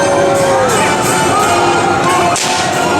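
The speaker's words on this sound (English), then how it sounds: "We got an ooh and a smattering of applause." A theme-park fright-fest crowd at Six Flags New England lets out a sustained, loud collective ooh with scattered clapping mixed in, busy and reverberant throughout.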